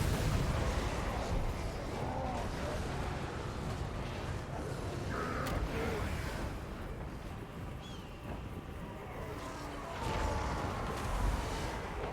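Tomb Kings artillery booming across a Total War: Warhammer battlefield against Greenskins, heavy low rumbling blasts and continuous wind-like battle noise throughout, with a few sharper impacts standing out.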